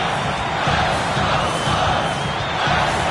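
Arena crowd in an NBA 2K23 basketball game roaring and cheering steadily near the end of the fourth quarter, a dense sustained wall of noise with no clear speech.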